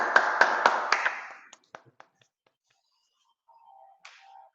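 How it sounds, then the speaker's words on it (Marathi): A short burst of clapping from a small group of students in a classroom, a few quick claps fading out into scattered taps and then quiet. "अनघासाठी टाळ्या."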